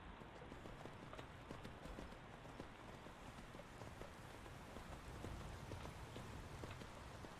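Horse hooves clip-clop in a steady, fairly quick rhythm of light taps over a dense, hissing background, faint and continuous from start to finish.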